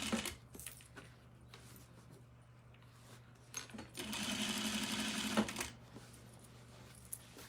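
A sewing machine runs in bursts, with one sustained stretch of rapid stitching in the middle and shorter runs before and after, close and fairly quiet.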